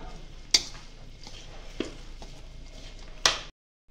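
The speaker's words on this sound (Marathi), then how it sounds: "उलटणीनंच असं मिक्स करून घेऊ" A spatula scrapes and stirs hot ghee through a coarse ground ladoo mixture in a pan, with soft continuous scraping and three sharp metallic knocks against the vessel, no talking.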